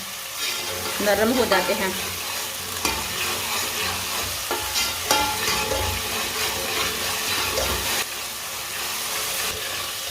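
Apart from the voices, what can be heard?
tomatoes cooking and sizzling in a pan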